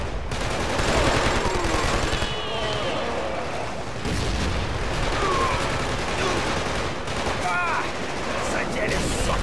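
Gunfire in the video game Killzone 2: dense bursts of shots and explosions fill the scene almost continuously at steady loudness, with a voice breaking in over the battle.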